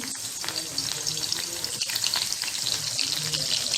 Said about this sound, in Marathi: आपलं तेल व्यवस्थित गरम झालेलं आहे त्याच्यामध्ये आपण टाकणार दोन बारीक कापलेलं लसूण